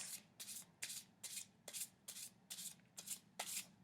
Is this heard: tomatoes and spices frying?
no